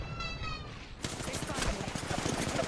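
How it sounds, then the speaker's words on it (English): Rapid bursts of gunfire from an Apex Legends firefight crackle loudly after the first second, a dense run of close shots with game sounds underneath and voices talking over the action. "So now I'm getting shot at."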